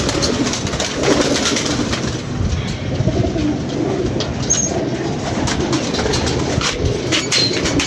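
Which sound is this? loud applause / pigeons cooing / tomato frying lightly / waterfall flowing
pigeons cooing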